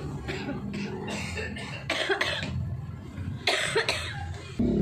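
Several harsh coughs come in short bursts, close to the listener, with a few pauses between fits.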